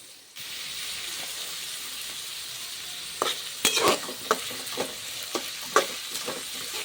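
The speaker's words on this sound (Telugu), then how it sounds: "ఆయిల్లోకి వేసిన తర్వాత ఉల్లిపాయలను ఒకసారి గరిటెతో తిప్పండి." Chopped onions frying in hot oil, stirred now and then with a ladle: a steady sizzle throughout, with several sharp scraping stirs in the second half, close and moderately loud, no talk.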